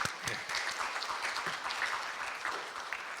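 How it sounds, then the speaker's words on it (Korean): Audience at a book launch event gives fairly quiet, steady applause heard from a distance, scattered claps blending into a continuous patter throughout. "서로에게 응원과 감사의 마음으로 서로 박수를 좀 쳐주시면 좋겠습니다."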